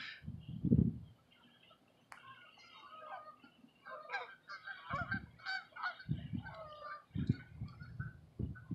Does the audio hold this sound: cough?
no